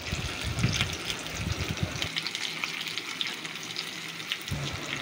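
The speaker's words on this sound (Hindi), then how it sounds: "तो इसे सिज़लिंग का टच देंगे" Memoni chatkhara kebabs sizzle and crackle loudly as butter or oil is poured over them on a hot pan, a dense frying hiss that briefly thins out before flaring up again.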